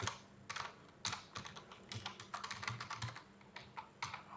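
Rapid typing on a computer keyboard while coding a pandas tutorial, with close, irregular clacking keystrokes in quick bursts and short pauses, and no voice.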